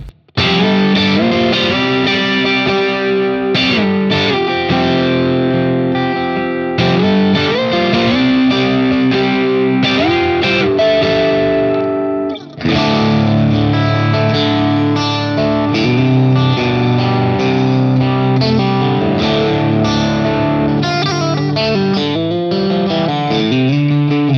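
An electric guitar through a Tonex amp capture plays continuously with heavy reverb and distortion, ringing chords and notes washing into each other, loud and up front, briefly pausing midway.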